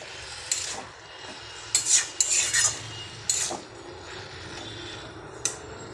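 Banana flower salted and mixed with chili and turmeric powder is stirred in a pan, several short scraping and clinking strokes of a utensil in bursts with quiet gaps between, close and fairly loud.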